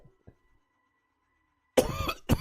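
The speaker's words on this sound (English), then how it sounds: "I'm really sorry about the coughing." A man gives a couple of close, loud coughs at the end after a long quiet stretch.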